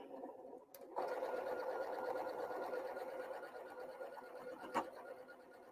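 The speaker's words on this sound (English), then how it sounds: "I'm just going to sew that." A sewing machine stitches quilt block pieces together, a quiet, steady mechanical whir running for several seconds after a brief pause at the start.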